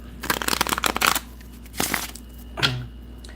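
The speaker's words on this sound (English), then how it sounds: "While waiting, I'm going to shuffle the cards." Tarot cards shuffled by hand during a live card reading: a dense run of quick riffling bursts, followed by two shorter shuffles after pauses, close and fairly soft.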